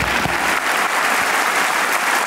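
A church congregation at an evangelical service breaks into loud, continuous applause, a thick and even wash of many hands clapping together.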